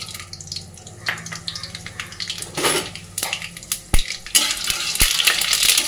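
Hot oil crackles and sizzles as whole spices (bay leaf, garam masala, peppercorns, caraway) drop into a wok, with clinks and scrapes of a utensil against the pan, growing busier toward the end.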